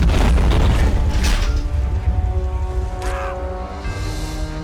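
Artillery fires in a tank-battle video game: a loud, heavy boom opens the sound, then fades into a rumbling mechanical clatter.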